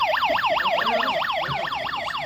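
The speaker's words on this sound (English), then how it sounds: "And now this alarm." A Tuya home security alarm siren, set off by its motion sensor, wails loud and close in fast, steady up-and-down sweeps that repeat without a break, with no voices over it.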